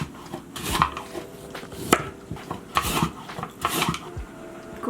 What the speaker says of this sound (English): I usually cut the butts off.